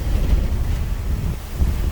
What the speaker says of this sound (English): you can hear the wind gusts